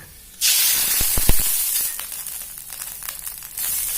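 Seasoned soy sauce liquid hits a hot pan of ginger-infused oil with a sudden loud hiss, dies to a steady sizzle, then swells again near the end, with no talk.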